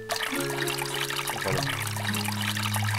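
Water runs from an opened tap in the Maniac Mansion video game: a steady, fairly loud hiss that continues throughout over sustained game tones.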